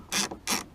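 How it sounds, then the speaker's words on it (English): A Craftsman 3/8 ratchet fitted with a 10mm deep socket breaks bolts loose, heard as two quick, close, sharp ratcheting clicks in a short, quiet burst. "It's a Craftsman 3/8 wrench. So all you do is just break them loose,"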